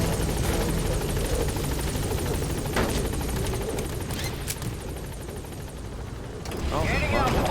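The Pequod helicopter hovers at a landing zone in Metal Gear Solid V, its loud, steady rotor roar filling the scene up close, with faint gunfire-like bursts and game sounds mixed in.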